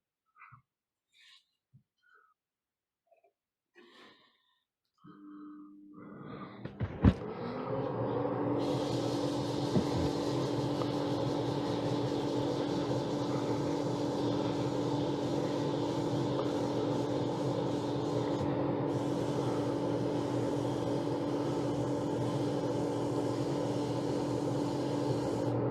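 Steady sanding of a wooden push-fit box bottom with 180 grit abrasive, likely on a lathe, a continuous loud whirring rasp that starts after a few faint knocks and holds evenly to the end with no talk.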